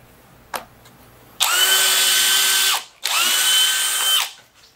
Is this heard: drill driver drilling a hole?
yes